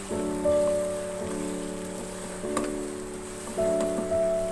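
Mutton frying with garlic ginger paste on a high flame, giving a steady crackling sizzle throughout, with a low hum running under it.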